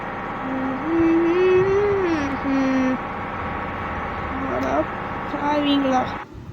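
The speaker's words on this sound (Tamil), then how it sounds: "ஆக்சிலேட்டர் அழுத்தினா போய் நேருக்கு போகுது வண்டி" A bus engine accelerating in Bus Simulator Indonesia, a loud drone whose pitch climbs, dips and climbs again as the throttle is pressed and released.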